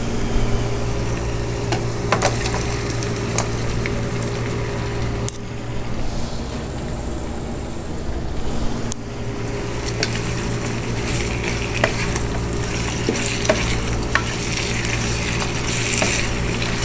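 Boiled mutton frying with onions in a pan for a white mutton korma, a steady moderate sizzle throughout with occasional scraping and stirring clicks and a brief quieter stretch in the middle.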